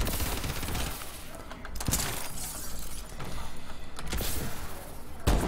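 Video game gunfire including sniper shots, dense crackling bursts and sharp shattering impacts layered over a busy game mix, fairly faint with a few louder cracks.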